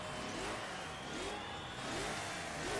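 Steady, loud engine roar of several Fiat 500 racing cars in the game GT Legends, with revving pitch sweeping up as they accelerate together, no voices.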